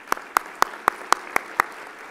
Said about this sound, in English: how about a round of applause for educators?